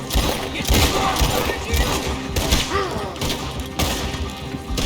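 Rapid gunfire from a Red Dead Redemption 2 shootout, with loud overlapping shots and thuds in a dense, continuous barrage under game noise and voices.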